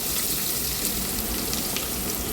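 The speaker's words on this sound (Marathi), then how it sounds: "तेल छान गरम झाले की त्यात टाकलेली आहे जिरं मोहरी पण छान कडकडली की त्यात टाकायचं आहे आपल्याला कढीपत्ता" Curry leaves dropped into hot oil already crackling with cumin and mustard seeds give a loud, steady, dense sizzle and hiss that holds evenly throughout, with no voices over it.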